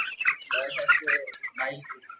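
Broiler chickens about three weeks old on a poultry farm holding two thousand birds give close, overlapping clucks and short calls in a busy, uneven stream.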